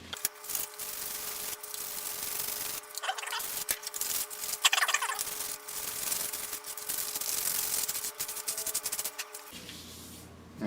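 Abrasive rubs back and forth over shiny plastic surfaces on a mahogany PRS-style guitar build, a dense, scratchy scuffing in repeated strokes with brief pauses, close and fairly loud, no talk.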